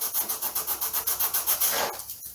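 Rhythmic sanding of wooden model biplane parts against a straight edge, about a dozen quick close strokes, a steady back-and-forth rasp that stops near the end.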